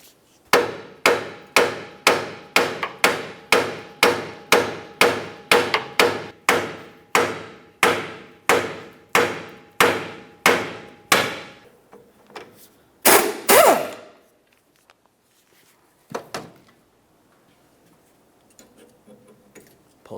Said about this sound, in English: we can give this a couple loving bonks to break it free